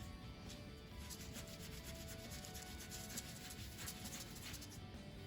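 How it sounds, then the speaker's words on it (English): A Cricut cutting mat is rubbed steadily with cleaning wipes, giving a continuous close-up scrubbing sound heard alone. "with these wipes, supposedly you just kind of rub"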